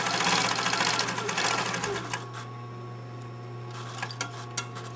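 A sewing machine stitches a mitered band corner for a costume, running steadily and loudly for about two seconds before stopping, followed by scattered small clicks and handling noises.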